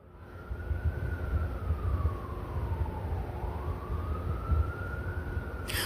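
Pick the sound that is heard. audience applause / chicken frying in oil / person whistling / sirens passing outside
sirens passing outside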